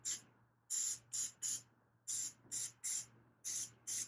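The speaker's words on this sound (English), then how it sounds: "all I'm going to do is put a light dusting of paint on this." Short bursts of spray paint hiss in quick succession as a light dusting is applied to a mandolin, each puff crisp and close, with a faint low hum between sprays.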